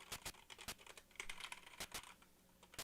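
A computer keyboard clatters with quick, irregular keystrokes while a game is played, each tap sharp and close but quiet overall, with no voices.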